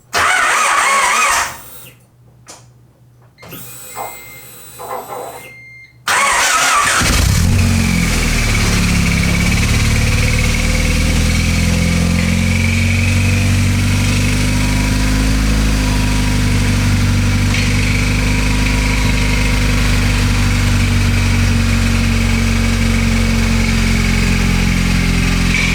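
A Honda Civic hatchback with a low exhaust cranks and fires, then settles into a loud, steady idle with a deep, constant drone that runs unbroken for about twenty seconds.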